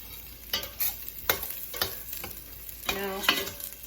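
Garlic frying in a pan for tinola, a low sizzle under a few close scrapes and stirs of a spatula, spaced irregularly and ending with a longer stirring pass.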